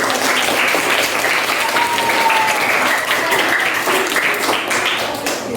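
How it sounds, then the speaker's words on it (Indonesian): Classroom applause from a class of junior high students rewarding a good answer: steady, dense clapping that holds evenly for several seconds, fairly close and loud, with faint voices mixed in. "Kita beri tepuk tangan"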